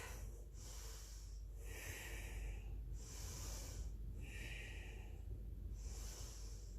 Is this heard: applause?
no